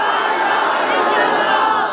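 A large crowd at a religious political rally in Korangi, Karachi roars out a slogan in unison, a dense, sustained wall of voices lasting the whole stretch without a break.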